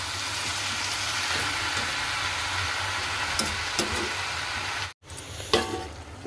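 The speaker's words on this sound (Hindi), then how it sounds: "यहाँ पर छोंकी मैंने सब्जी, ये पत्ता गोभी आलू की सब्जी है" Cabbage and potato curry sizzles in a pan, a steady low frying hiss with a couple of faint clicks near the end, close but quiet.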